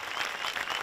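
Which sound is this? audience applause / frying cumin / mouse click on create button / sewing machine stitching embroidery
audience applause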